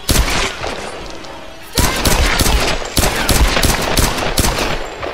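Rapid bursts of gunfire from the Tomb Raider video game, loud, close and dense, with a brief lull after the opening volley and then sustained fire with sharp individual shots.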